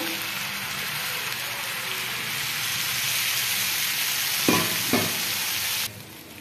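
Water goes into a hot pan on a tava while besan pitla is being made. A steady sizzle and bubbling runs throughout, with a couple of sharp splashy bursts near the end, and no talking.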